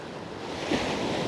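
Ocean waves wash onto a beach with rock stacks along the Great Ocean Road at sunrise, a steady broad rush of surf mixed with wind noise.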